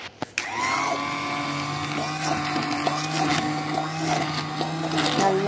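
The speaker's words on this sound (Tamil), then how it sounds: "நான் பிளெண்டர் வச்சு கடைஞ்சிருக்கேங்க." Electric kitchen blender whirring steadily as it purees cooked fenugreek leaves with dal, a sustained motor hum that starts after a couple of clicks and runs continuously at moderate loudness.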